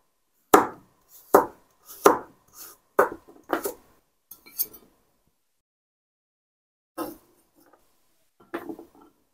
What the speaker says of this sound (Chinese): 我们把萝卜切成粗条